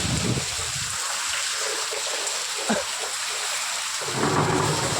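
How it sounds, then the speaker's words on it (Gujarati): Steady heavy rain pours with a roaring wash of wind, and a low rumble of thunder rolls through near the start and end. "વાવાઝોડું પવન જોરદાર ઉપડી ગયો છે"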